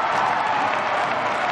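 Ice hockey fans at a Germany versus Netherlands men's world championship game roar and applaud in a steady, dense wash of cheering and clapping with no clear voices standing out.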